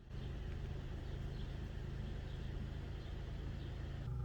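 A 2003 Toyota Tacoma with a 3.4L engine idles steadily after a cylinder misfire repair, a smooth, even low rumble held at constant loudness throughout, close by, with no talking.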